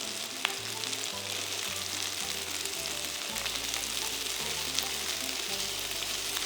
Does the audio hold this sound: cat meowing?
no